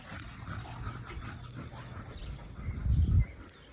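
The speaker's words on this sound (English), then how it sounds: "I just got the dogs that I had outside out here." Dogs outdoors in a yard, with low rustling and faint whimpers, building to a louder burst of movement and brief barking near the end.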